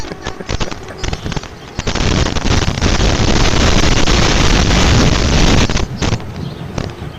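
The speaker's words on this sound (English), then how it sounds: "Man, it's windy out here." Strong wind gusts buffet the microphone outdoors, a loud rushing roar that builds and holds, broken by a few sharp knocks at the start and end.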